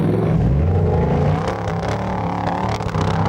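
A 4x4 trial truck with a 3.5 litre Rover engine revs hard, loud and close, surging and bouncing as it climbs, with sputtering bursts and throttle blips throughout.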